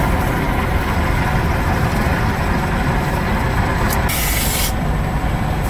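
A knife blade is ground on a coarse grinding machine, giving a steady, loud broadband grinding roar that runs throughout, with a brighter hissing burst partway through.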